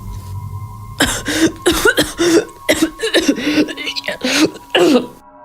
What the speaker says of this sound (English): Sounded like someone coughing.